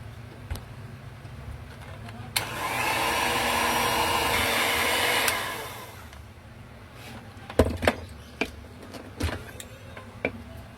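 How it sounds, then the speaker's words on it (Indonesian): An electric mixer whirs steadily for about three seconds while beating steamed chocolate cake batter, a loud close buzzing drone that stops abruptly, followed by scattered knocks and clatter of bowl and utensils. "Mixer kembali."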